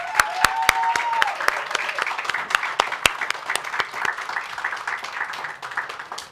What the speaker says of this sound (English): A hearty round of applause